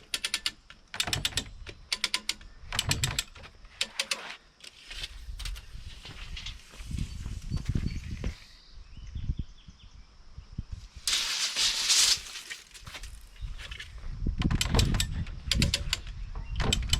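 A ratchet is cranked to pull oak barn beams together, giving rapid, continuous clicking bursts in uneven spells, close and fairly loud, with a brief hissy stretch partway through.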